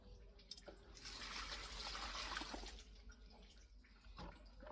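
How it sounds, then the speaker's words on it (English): Water poured from a container onto potted plants in a Jamaican garden, a steady splashing, trickling pour for a few seconds that eases and then picks up again near the end, heard close by with no talking. "So to ensure that my plants, you know, the plant get enough water, I use a container to water them."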